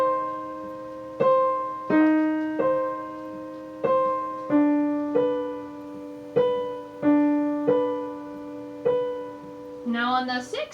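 A piano plays two measures of Khachaturian's Andantino: a slow, evenly spaced run of about a dozen clear, sustained notes, each decaying before the next, ending in a brief quicker flourish.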